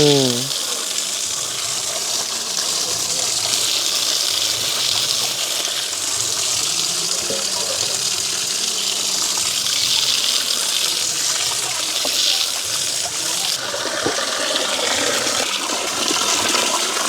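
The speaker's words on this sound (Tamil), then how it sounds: "வெட்டின கிழங்கு எல்லாத்தையும் நாங்கள் கழுவி எடுப்போம்" Water sloshing and gushing steadily as cut cassava tubers are washed by hand, a continuous close splashing wash with no talk.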